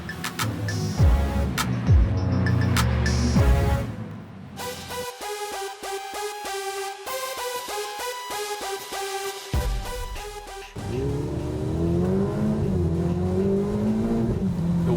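A Ferrari 488 Spider sports car drives through hot desert sand-dune country, its engine rising and falling in loud tonal revs and pulsing bursts that climb again toward the end.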